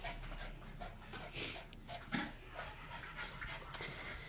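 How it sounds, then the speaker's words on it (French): Dog panting and whimpering close by, soft quick breaths broken by thin whines and a couple of brief yips, faint overall. "les chiens qui jappent tout le temps comme ça, c'est voilà, c'est fatigant"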